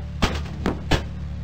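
StuG assault gun shots from the Microprose tank game Across the Rhine: three sharp, booming reports in quick succession over a steady low engine hum, with no talking.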